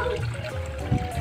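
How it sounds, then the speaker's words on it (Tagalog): An Electrolux fully automatic washing machine drains after a mainboard conversion, releasing a short, close gush of water that splashes and trickles steadily for about a second under a low motor hum. "Ayan, lumabas po ang tubig"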